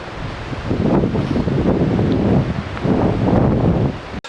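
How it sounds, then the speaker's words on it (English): Strong wind buffets the microphone in a continuous loud roar, rising and falling in gusts throughout. "as you can hear, is a really windy and blustery day"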